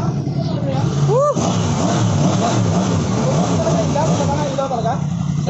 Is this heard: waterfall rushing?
no